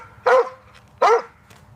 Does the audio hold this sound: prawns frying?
no